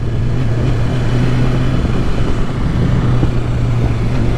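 Motorcycle engine running steadily while riding after an oil change, a continuous low droning rumble with even tone and no pauses, close and fairly loud.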